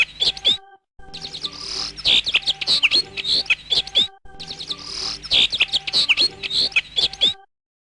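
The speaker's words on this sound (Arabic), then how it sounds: "عصفور." A sparrow chirps loudly and close by in quick, busy bursts of sharp tweets, two near-identical runs separated by a brief silence.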